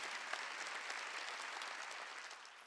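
Church congregation applauding during a worship service, a sustained dense clapping from many hands that stays fairly even and slightly fades toward the end, heard from a distance.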